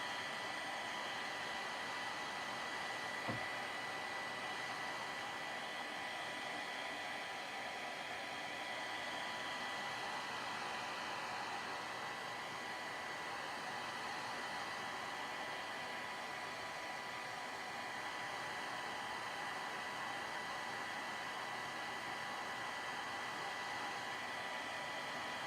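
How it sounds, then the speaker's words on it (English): A blow dryer runs steadily on a glass block as it dries, a continuous even hiss with no pauses, close and moderately quiet throughout. "maybe you always get the blow dryer in it"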